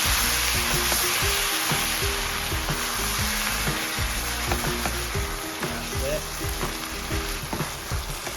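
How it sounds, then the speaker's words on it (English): Chickpeas and vegetables for a butternut squash meal sizzling loudly in a pan, a close, continuous hiss of frying with faint clinks and stirring underneath. "there it sizzles."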